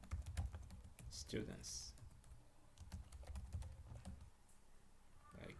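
Quiet, rapid clicks of a computer keyboard pattering continuously during work in Excel, faint and close, with a voice speaking briefly over the keystrokes.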